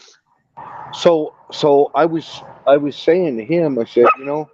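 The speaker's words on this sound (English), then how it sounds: "She knows I'm on the phone and she wants to bark." A pet dog barks eagerly in a home while someone talks on the phone, with short yappy barks bursting out in quick succession and overlapping his close, loud speech.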